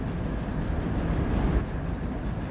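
A heavy train in Train Sim World 3 slows under dynamic and automatic braking, giving a loud, steady, unbroken low rumble with no voices.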